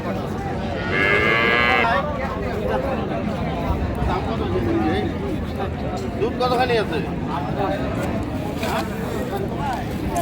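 Dairy cows and calves moo repeatedly amid a busy crowd at Raniganj cattle market in Dinajpur, with overlapping voices and chatter filling the background of the lively outdoor gathering.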